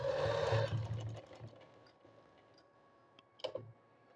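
Sewing machine running a short burst of stitching along a zipper, loud at first, then tapering into light clicks and a brief second whir near the end.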